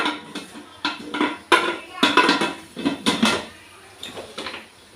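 A series of metallic clatters and clinks as a lid is placed on a pot of rice for egg biryani, several sharp knocks in quick succession, close and fairly loud, with no talking.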